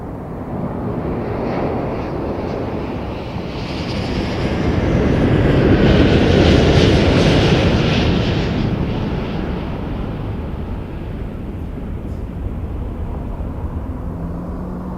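A WestJet Boeing 737 on short final at Toronto Pearson Airport passes with a broad jet roar that swells to a peak mid-clip and then eases off, steady and fairly loud.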